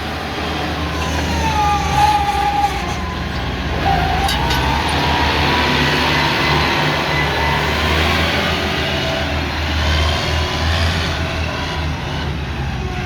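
Kubota M108S tractor pushing soil on a roadside earthworks site, its engine a steady, loud, continuous drone and rumble throughout, with no voices.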